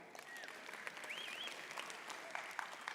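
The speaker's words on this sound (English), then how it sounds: "there was a clap. There you go, a few more." Audience at a conference presentation clapping, scattered individual claps building into a light, uneven round of applause with a few sharp hand-slaps standing out, while a speaker's voice continues faintly underneath.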